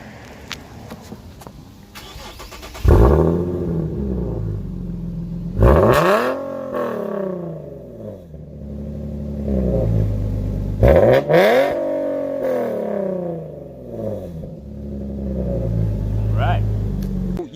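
An Infiniti G37 fitted with a Corsa axle-back exhaust cranks and fires up, then revs hard several times in loud, close blips that drop back to a rumbling idle, with people talking nearby.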